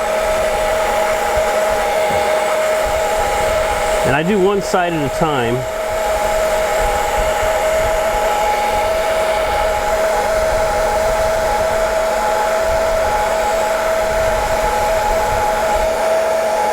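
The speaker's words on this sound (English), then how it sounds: "This is a very old heat gun," A very old heat gun blows hot air with a loud, steady whine and roar that runs the whole time, briefly wavering midway, while someone talks over it once.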